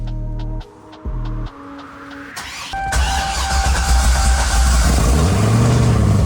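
A Corvette engine cranks in a few short bursts, then catches and starts, settling into a loud, steady idle with rising revs toward the end, close by with no talk.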